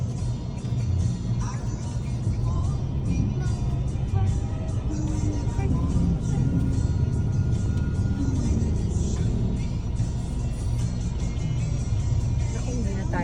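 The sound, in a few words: road traffic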